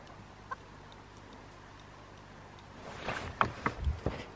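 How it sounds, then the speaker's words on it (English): Backyard chickens clucking on a freezing-rain day: after about three seconds of quiet, a few short, close clucks and squawks arrive in quick bursts near the end. "Glad to see the chickens enjoying them."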